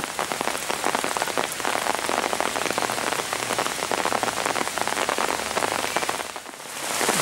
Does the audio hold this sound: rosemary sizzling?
no